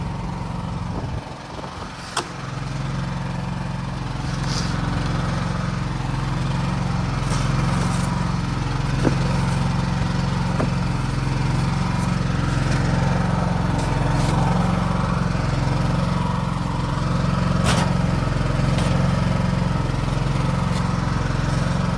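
Standby generator engine idling and warming up in freezing, snowy weather, its exhaust buried in snow; a steady close engine drone holds without letup, with a few faint clicks and rattles over it.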